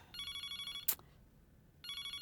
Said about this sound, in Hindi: फोन बज रहा है, देखो तो कौन है।